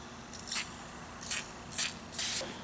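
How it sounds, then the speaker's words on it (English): WD-40 lubricant sprayed onto the glider of a sliding patio door: four short aerosol hisses, evenly spaced over a quiet background, with no voices. "I'm just gonna spray some WD-40 directly on the glider."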